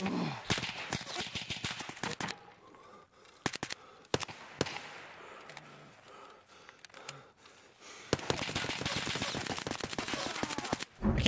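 Gunfire in Escape from Tarkov on the Interchange map: scattered sharp shots early, a few isolated cracks in the middle, then dense rapid firing near the end, with no talk.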